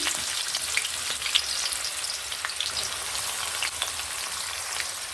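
Onion frying in oil with cinnamon, a steady dense sizzle throughout with a few small pops and spatters, close and fairly loud, with no talking.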